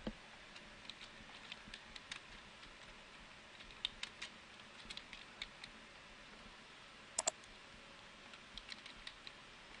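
Quiet computer keyboard typing while editing a Google Sites page, heard as scattered light clicks and short bursts of keystrokes over a faint background hiss, with no talking.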